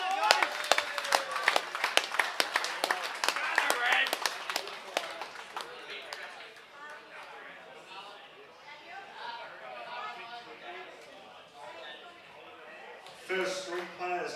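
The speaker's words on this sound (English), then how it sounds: "Huge round of applause." An audience at a sports league grand final awards ceremony claps loudly and briskly, then the applause thins out into scattered claps while a person speaks over a microphone, with a brief final burst near the end.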